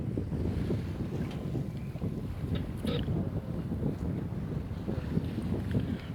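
A Kraken 58 sailing yacht moves under sail in light wind at about five knots, with a steady low rush of wind and water against the hull, fairly quiet and unbroken.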